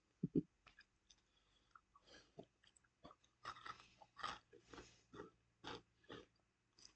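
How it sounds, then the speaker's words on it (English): A crunchy strawberry-flavored Brazilian snack, small and round, is chewed close to the mic in a run of loud, irregular crunches and bites with short pauses between them; nobody talks. "I find it interesting, it says soft, chewy texture, and it's absolutely crunchy."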